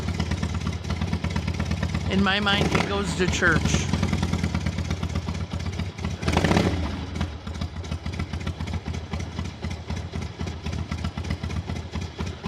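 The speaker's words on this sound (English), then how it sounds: "starting his motorcycle" A neighbor's motorcycle starts up and settles into a steady low idle, rumbling continuously in the background while people talk over it.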